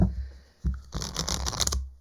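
Tarot cards being shuffled by hand: a brief riffle of papery flutters and soft clicks after a short pause, close and fairly quiet.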